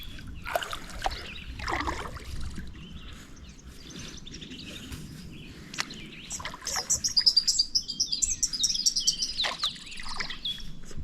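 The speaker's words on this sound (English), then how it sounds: "Some pretty birds." Birds chirp and trill around Hull Lake in Butte, Nebraska, bright repeated calls growing busier and closer later on, over soft water trickles and paddling sounds from a small boat.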